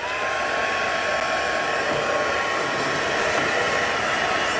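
Heat tool for card making blowing hot air: a loud, steady whooshing roar close by, constant for the whole stretch with a faint high whine riding on it and no talking.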